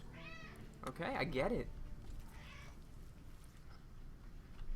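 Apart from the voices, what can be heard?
angry cat meowing after being locked out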